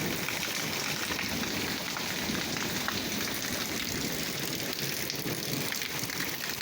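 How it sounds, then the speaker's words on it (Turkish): Walnut-sized hail pelting down during a storm in Malatya, a dense, continuous hiss and patter of ice striking surfaces, steady and close, with no voices. "Dolu yağışı"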